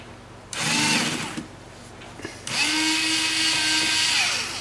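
Cordless power drill on its lowest torque setting backing screws out of a Badlands winch remote, two close whirring bursts, the first about a second long and the second longer and steady, with a brief click between.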